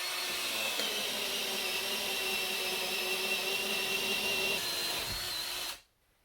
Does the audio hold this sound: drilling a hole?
yes